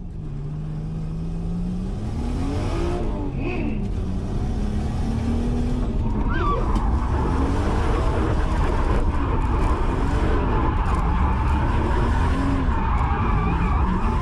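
A car drifts around a track during a drift taxi lap, its engine droning loudly and continuously with rising and falling revs and tires squealing as it slides, heard from close inside.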